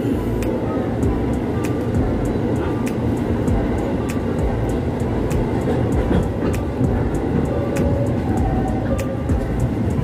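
A commuter electric train pulls out of Karet station in Jakarta, its steady low rumble of wheels and motors filling the scene continuously from inside the carriage, with faint rhythmic clicks from the rails.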